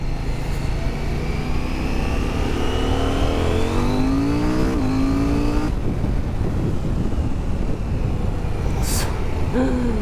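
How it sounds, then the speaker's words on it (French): Husqvarna Svartpilen 801 motorcycle accelerating hard in second gear out of a roundabout, engine note rising steadily in pitch, loud and close with heavy wind rush, then easing off after a brief shift. "on va essayer de se faire une dernière petite accélération là en seconde, sortie de rond-point"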